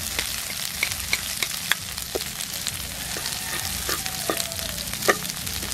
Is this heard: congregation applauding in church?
no